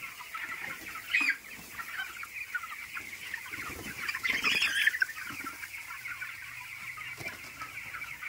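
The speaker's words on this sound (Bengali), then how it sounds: "এইটা হচ্ছে আমার পোলট্রি ফার্ম। এইটা হচ্ছে আমার পোলট্রি মুরগি, ব্রয়লার মুরগি যেটা আমরা চাষ করি" Broiler chickens cluck in a village poultry farm, a dense flock chattering steadily with louder bursts of clucking near the start and midway.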